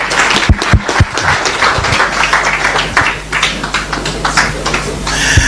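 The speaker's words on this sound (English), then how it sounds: "Let's give him a round of applause." Audience applause follows a speech at the Pan African climate conference in Nairobi. The clapping is fairly loud and uneven, with sharp individual claps over a continuous crowd wash.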